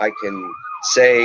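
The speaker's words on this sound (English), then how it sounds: "sorry about the sirens. It is kind of loud." A wailing emergency siren rises and falls in the background while a person speaks over it, fairly loud and close.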